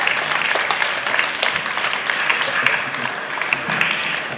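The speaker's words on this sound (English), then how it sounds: "There's Lynn getting a deserved round of applause." A crowd of spectators at a ladies' darts finals day applauds, a dense, steady burst of clapping filling the whole stretch with slight swells and scattered sharper claps.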